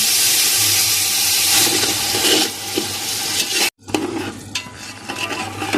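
Milk is poured into hot ghee and sugar for sweet coconut mutanjan, setting off a loud, rushing sizzle that breaks off briefly and then resumes as a bubbling, crackling simmer.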